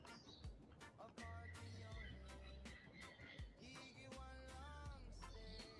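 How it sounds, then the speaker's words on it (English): A flock of 20 to 200 birds calling together, heard as faint overlapping chirps, whistles and rising tweets layered over a low background hum, with a few louder calls cutting through. "they get real vocal whenever another bird comes near them"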